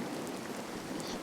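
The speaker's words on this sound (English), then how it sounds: "A rainfall this suddenly?" Sudden rainfall in the visual novel game Sakura Spirit, a dense, even hiss of rain that stays steady and fairly loud for the whole short stretch.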